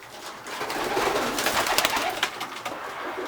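Pigeons coo steadily at close range in a breeder's loft, a soft rolling murmur of overlapping calls with a few louder accents near the end, no talking.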